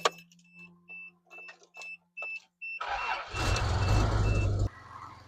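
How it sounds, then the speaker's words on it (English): A pickup truck's engine cranks and starts after being topped off with coolant, following a series of rhythmic beeps; the engine then rumbles loudly and steadily before cutting off. "I'm gonna start the truck"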